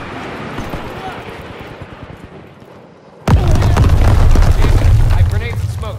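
Grenade blasts in the Call of Duty WW2 video game: a dense rumble of distant battle gives way to a sudden, loud, deep explosion that roars on with crackling debris and gunfire.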